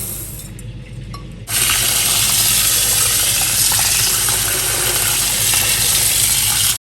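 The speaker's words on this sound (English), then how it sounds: "go ahead and wash your rice" Water from a tap runs and gushes loudly over rice being washed, a steady close rush that starts suddenly after a quieter lead-in and continues unbroken until cutting off.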